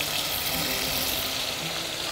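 Oil and butter heat in a pan, giving a steady, dense sizzle that is close and fairly loud, with no talk over it.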